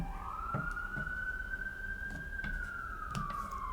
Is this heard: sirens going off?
yes